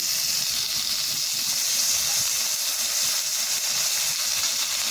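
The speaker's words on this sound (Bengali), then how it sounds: "এবার এখানে নিয়েছি অল্প কিছুটা কাঁচা লঙ্কা কুচি আর ধনে পাতা কুচি এটাও আমি তেলের মধ্যে দিয়ে দিচ্ছি" Chopped green chilli and coriander leaves dropped into hot oil, giving a steady, loud, close sizzling hiss that holds evenly throughout with no talk.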